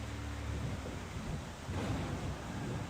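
Tornadic winds roaring in Tornado: Research and Rescue, a steady low rumbling gale with gusting swells, distant and fairly faint, no voices.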